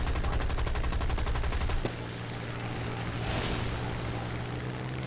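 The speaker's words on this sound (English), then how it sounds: "I love the sound of people shooting past me" Rapid machine-gun fire rattles loudly in a dense, even burst for about two seconds as aircraft weapons shoot past in War Thunder, then cuts off, leaving a steady low engine drone and rushing wind.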